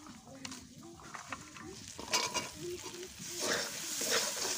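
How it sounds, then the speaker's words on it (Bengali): Chui stalks are stir-fried in cooked spice paste, a soft sizzle with scraping and stirring clatter, fairly quiet, with a voice speaking over part of it. "এর মধ্যে আমি ওই চয়ের ডালটা দিয়ে দেব, দিয়ে ভালো করে কষিয়ে নেব।"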